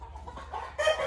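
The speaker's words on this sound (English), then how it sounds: "That is a rooster." Rooster on a farm clucking in a short run of soft, close calls that ends in a louder, brighter squawk.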